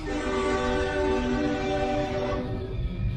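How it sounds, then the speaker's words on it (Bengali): A loud, sustained whistle from a through train approaching a station blares steadily for a few seconds, then begins to fade toward the end. "হঠাৎ শুনি হুইসেলের শব্দ হচ্ছে।"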